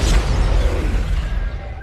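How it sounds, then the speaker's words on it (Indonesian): A deep, rumbling building explosion in a film, a boom that rolls on and slowly fades out, loud and heavy with strong low-end. "Gedung tersebut meledak saat setelah Tadashi memasukinya"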